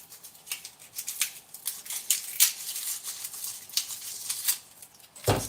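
Papery crackles and light scratching come from a garlic clove being peeled by hand, a quick irregular run of close crisp ticks and rustles with no talking.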